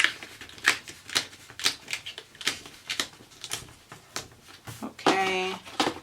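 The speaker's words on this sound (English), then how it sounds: "turning the paper on these discs is a little annoying" Sheets of notes paper being worked onto the discs of a Happy Planner, giving a series of short papery snaps and rustles at close range, with a brief voice near the end.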